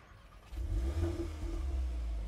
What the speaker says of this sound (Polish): I wtedy silnik wkręca się na 2500 obrotów od razu i delikatne pop-upy z tego wydechu słychać.